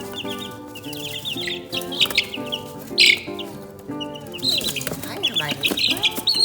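Baby chicks in a brooder chirp in bright, overlapping peeps close by, with short bursts of busier cheeping and a person talking softly over them.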